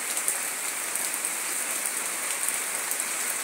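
Steady rainfall in a Brazilian town after a hot day, a dense even patter of drops on surfaces that holds constant throughout with no one speaking.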